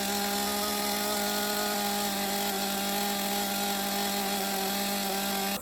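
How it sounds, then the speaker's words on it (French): A chainsaw held at full throttle cuts into solid wood, giving a loud, steady, unbroken whine that runs throughout with no talking. "Je vais commencer à balayer tranquillement avec ma tronçonneuse"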